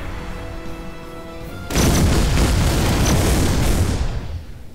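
Weapon blasts from the artillery game ShellShock Live erupt into a loud, sustained booming roar after a quieter stretch, then fade slightly toward the end.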